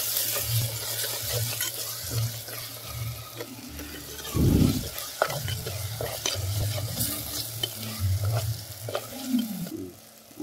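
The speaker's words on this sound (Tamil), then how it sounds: "மசாலாலாம் நல்லா வதங்கிடுச்சு." A tomato and onion masala for quail gravy fries in a pan, with a constant close sizzle broken by frequent spatula scrapes and stirring knocks, one louder clatter midway.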